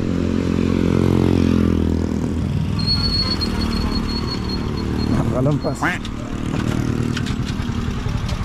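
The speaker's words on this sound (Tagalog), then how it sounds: "Sakay tayong tricycle mga kabisig." A motorized tricycle's engine rumbles steadily while riding, a low continuous drone with shifting pitch running under near, ongoing conversation.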